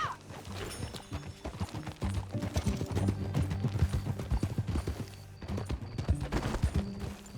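Horse hooves clip-clop in a quick, steady rhythm close by in Red Dead Redemption 2, with tack rattling and a brief whinny, while game ambience plays underneath.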